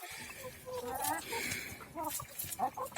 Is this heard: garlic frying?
no